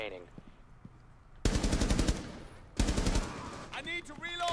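Automatic gunfire in the video game Rainbow Six Siege, played in Terrorist Hunt mode: two loud, rapid bursts of shots, each more than a second long, with quieter game sounds between them and chirpy electronic effects near the end.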